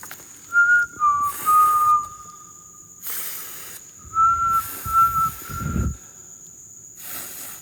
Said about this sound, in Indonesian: coba bersiul ya,